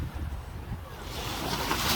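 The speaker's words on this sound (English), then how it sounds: "Look at the waves." Ocean waves at the seashore, a broad steady wash of surf mixed with wind buffeting the microphone, rising slightly toward the end, fairly faint and continuous.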